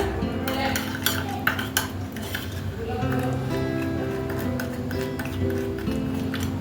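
A spoon works masala peanut paste around a bowl, giving quiet repeated scrapes and light clinks over steady low background noise, with no clear speech.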